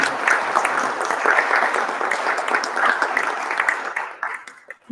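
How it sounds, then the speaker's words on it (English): A lecture audience gives a dense, continuous round of applause that holds at an even loudness for several seconds before tapering off. No one speaks over it. "let's give him a round of applause"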